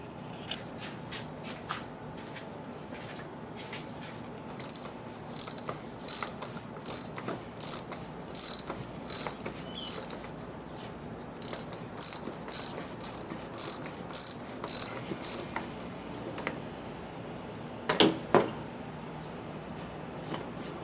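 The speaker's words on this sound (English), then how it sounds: "All you need is a 36 millimeter socket, and you'll be able to, that'll come right out." A ratchet with a 36 mm socket clicks in quick, repeated bursts while loosening the oil filter housing on an Audi C7 A6 3.0T, close up and without talk. Pauses fall between the strokes.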